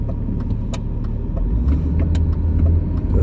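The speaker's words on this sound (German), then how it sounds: "Noch musst du den Motor hören." A BMW E39 525i sits idling with a steady, low engine hum, close and continuous, with small clicks and knocks from inside the car.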